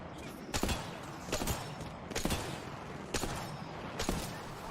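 Gunfire in the Apex Legends video game: five or so sharp, separate shots spaced roughly a second apart over a steady background hum, moderately loud and without talk.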